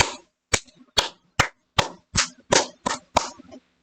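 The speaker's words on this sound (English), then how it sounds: "There you go, I clapped." Hands clapping in a sharp, evenly spaced series of about nine crisp claps, close and dry, with no voices.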